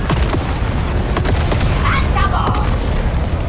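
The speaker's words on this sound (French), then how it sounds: "Explosion interne et une réaction en chaîne dans les moteurs du révélateur." Internal explosion chaining through a starship's engines in a sci-fi video game, a dense continuous rumbling roar with sharp booming bursts, loud and steady throughout the short stretch, with a voice faintly underneath.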